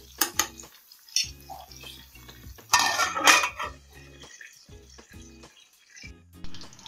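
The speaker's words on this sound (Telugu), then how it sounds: "ఒకసారి మూత తీసి మళ్ళీ కలుపుకుందాం." Bitter gourd pieces are stirred in a pan on the stove, with scattered metallic clinks and scrapes of a spoon against the pan, several louder clatters, and a faint sizzle between them.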